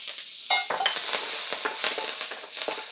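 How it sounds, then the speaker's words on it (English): Scallion whites and light green parts crackle and sizzle in hot neutral oil, stirred briskly with sharp scraping and tossing sounds over a loud, continuous frying hiss. "Stir fry those real briefly"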